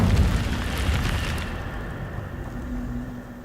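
An Incendio fire spell in Hogwarts Legacy erupts in a loud whooshing, crackling burst that fades over a few seconds into a lingering low rumble.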